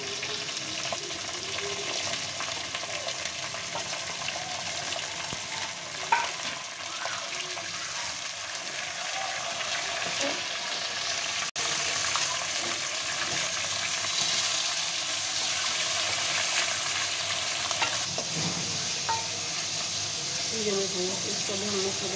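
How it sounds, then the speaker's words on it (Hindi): Bone-in mutton frying with browned onions in a pan for lauki gosht, a loud continuous sizzle with stirring clatter, under occasional talk. "ये देखेंगे प्याज हमारी, आप देख सकते हैं ब्राउन हो चुकी है, अब हम इसमें गोश्त ऐड करेंगे।"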